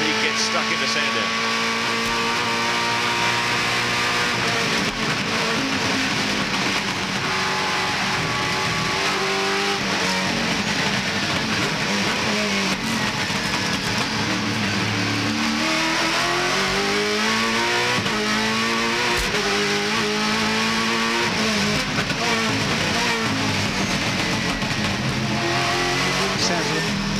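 A V8 touring car engine roars continuously at high revs at Sandown Raceway in the 1999 Shell Championship Series, rising and falling through gear changes, with a commentator talking over it throughout.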